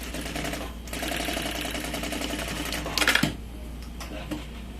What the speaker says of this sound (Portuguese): é só fazer uma costurinha bem na beiradinha. Pra segurar essa tela.